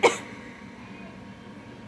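A single short cough bursts out at the very start, close and fairly loud, in a kitchen where pasta noodles are going into a pot, then fades into a faint, steady room background.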